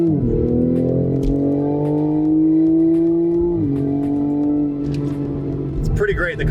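A 2020 Toyota Supra in sport mode accelerates hard, its engine note rising steadily in pitch, dipping at a quick gear shift, then climbing again before easing off near the end, loud and close.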